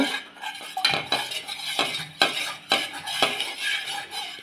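Payasam mixture of hind hudi (ichalu tree flour) in a pot, worked with a metal spoon in repeated scraping, clinking strokes against the pot's sides, close and brisk, with no voices.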